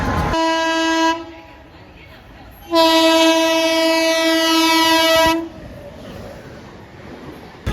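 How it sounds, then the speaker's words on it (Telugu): A passenger train moving fast, with a loud sustained horn blast, a short pause, then a second long horn blast over steady rail rumble. "సో ట్రైన్ అయితే స్టార్ట్ అయిపోయింది"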